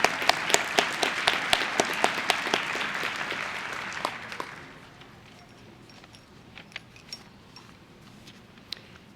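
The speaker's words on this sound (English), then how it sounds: "Let's have a round of applause for all our county award winners." An audience at a fall graduation ceremony claps for county award winners, a dense, steady round of applause that fades after about four seconds, leaving scattered single claps in a large hall.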